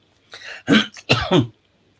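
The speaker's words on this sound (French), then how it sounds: "Comme ça, je tousse" A few sharp coughs in quick succession, close and fairly loud, with a short throat-clearing burst between them and silence around.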